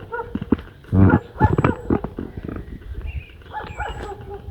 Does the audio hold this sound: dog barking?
yes